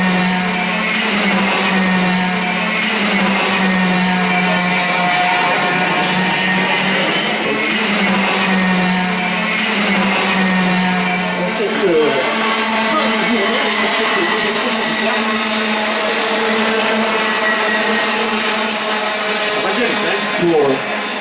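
Mini category racing karts run on a Belgian circuit at close to 100 km/h, a loud continuous high engine whine that shifts pitch as they pass, heard with a race commentator talking over it throughout.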